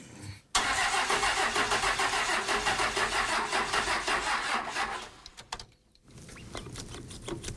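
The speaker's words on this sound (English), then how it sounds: "that it's turning over really slow. It's sat for so long, it's hard to tell at this point, but I'll give it a shot." A long-idle diesel ramp truck engine cranks over slowly, the starter churning loud and steady in a rhythmic grind for about five seconds without catching, then dropping off before a quieter second attempt.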